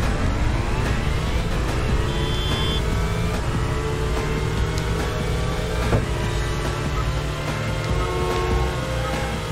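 Dense engine drone and traffic noise of cars driving in the racing video game Taxi 3, steady and loud throughout, with a rising revving tone and layered motor hum.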